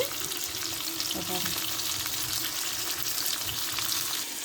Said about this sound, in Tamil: இப்போ நம்ம வந்து கிரவிக்கு வதங்கிக்கிட்டு இருக்கு